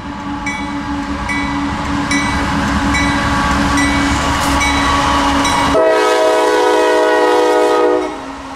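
A slow freight train rolls past close by, its steady rumble and wheel noise filling the scene while the horn sounds in repeated pulses, then a long sustained horn blast near the end before the sound cuts off.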